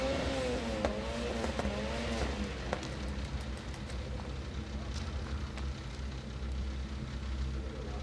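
Rallycross race cars run at the Kymiring circuit, engines roaring and revving loud and close with rising and falling pitch, shifting gears over a steady mechanical drone, with a voice faintly underneath.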